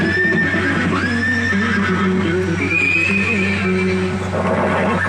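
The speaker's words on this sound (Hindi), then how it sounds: "सम्राट परीक्षित महाराज अपनी वेशभूषा में देश का भ्रमण करने के लिए घोड़े पे सवार होकर निकले।" A horse whinnies and neighs repeatedly over a steady background hum, with a faint clip-clop of hooves throughout; no talking is heard.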